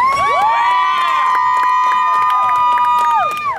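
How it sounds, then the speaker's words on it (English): Fans at a women's baseball game at the 2015 Pan Am Games, Team USA against Venezuela, cheer and shout steadily for batter Jade Gonzalez, loud and continuous against the crowd, with a sustained horn-like tone over it. "Jade's contingent cheering her on."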